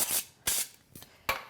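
Three short close bursts of oil spray hitting an air fryer tray, each a brief hiss spaced about half a second to a second apart, nothing else around them.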